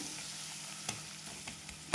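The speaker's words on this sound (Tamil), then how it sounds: "மல்லித்தூளும் இந்த மிளகாத்தூளும் நல்லா எண்ணெயில் லைட்டாக போட்டுரும் இந்த வதங்கிக்கிட்டு இருக்கும்போது கொஞ்சம் கலர் கொடுக்கும்" Ground coriander and chili powder sizzle gently in hot oil in a pan, a steady frying hiss with a few soft stirring scrapes and a sharper clink at the very end.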